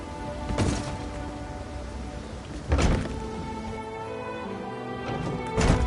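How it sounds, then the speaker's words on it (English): Steady storm rain hisses throughout a stormy scene in Elder Scrolls Online Morrowind, with three heavy low thuds of thunder rolling in at intervals, the loudest near the end; no talking. "Now there's a new storm brewing"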